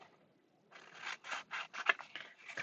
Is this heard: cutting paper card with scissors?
yes